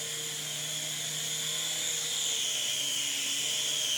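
A small TX toy helicopter flies nearby with a steady high-pitched electric motor whine and rotor buzz, continuous and fairly loud with no talking.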